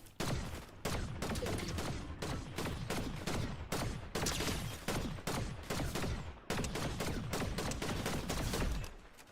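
Rapid Fortnite gunfire, likely from an assault rifle, rattles out in loud repeated bursts of sharp shots, separated by brief pauses, dominating the scene with no talk over it.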